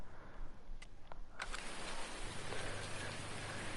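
Steady rain falls on a cotton farm in the Farming Simulator 19 video game, a faint continuous hiss with a few soft taps and no talk.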